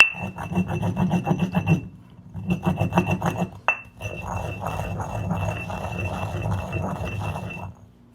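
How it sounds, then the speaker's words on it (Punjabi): A kunda mortar rubbed and rotated from both sides to scour out sand in a village kitchen. Steady, loud, close rasping grind comes in long strokes with brief breaks and a sharp knock partway through, with no talk. "ਦੋਨੋਂ ਪਾਸੇ ਤੋਂ ਇਦਾਂ ਇਦਾਂ ਰੋਟੇਟ ਕਰ ਕਰਕੇ ਰਗੜੋ"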